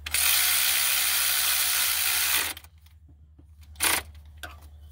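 A ratchet clicks rapidly while a fuel line is snugged onto an injector on a DD15 diesel engine, a dense close burst for about two and a half seconds, then quiet with a few brief faint clicks.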